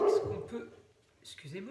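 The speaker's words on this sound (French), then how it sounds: "c'est le chien." A dog gives a short bark at the start and a brief yip near the end, indoors, with someone speaking French around it.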